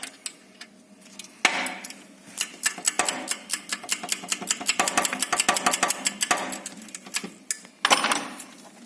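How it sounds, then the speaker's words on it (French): Ratchet or wrench work removing the two lower nuts that hold the alternator on a London-style taxi, a fast run of sharp metallic clicks and ticks in bursts, close and fairly loud, with no talking. "on termine d'enlever les deux écrous du dessous qui maintiennent l'alternateur"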